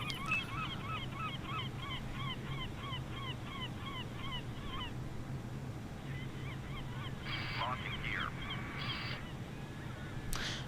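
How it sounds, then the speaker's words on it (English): Seagulls in a flight simulator game give runs of repeated honking calls at a moderate distance, pausing and then calling again over a steady background hum. A couple of brief bright tones cut in near the end. "The seagulls are actually getting quite annoying"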